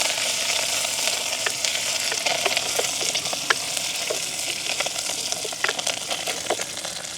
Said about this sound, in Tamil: கருவேப்பமில ரொம்ப போட்டுருக்குது நல்ல வடிவாக பிராட்டி விடுவோம்